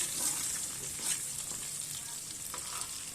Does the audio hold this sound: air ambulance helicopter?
no